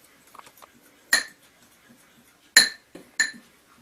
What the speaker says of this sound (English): We're just going to stir it.